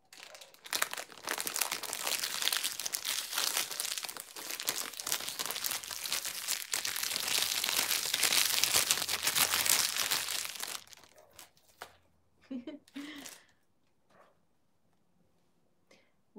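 Perfume packaging for Francesca Bianchi Sublime Oil Sex and The Sea Neroli is unwrapped, with close, busy crinkling and tearing of paper and plastic that runs for about ten seconds. A few softer rustles follow before it falls quiet.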